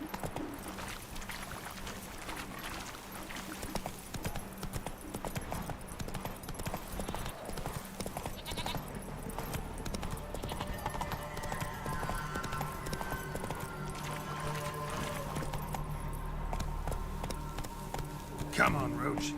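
Roach the horse galloping in The Witcher 3, with continuous rhythmic hoofbeats clip-clopping close by and a voice speaking over them, along with ambient game sounds.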